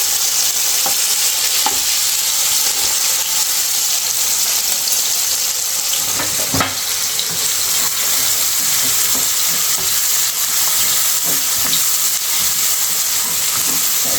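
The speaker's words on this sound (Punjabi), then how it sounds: "ਆਪਾਂ ਇਹਨਾਂ ਨੂੰ ਇੱਕ ਦੋ ਵਾਰੀ ਇਸ ਤਰ੍ਹਾਂ ਪਲਟ ਕੇ ਸੇਕ ਲਗਾ ਲੈਣਾ" Tomatoes roasting on a hot pan for tomato and raw mango chutney give a steady, loud sizzle, broken by a few soft knocks and scrapes as they are turned over.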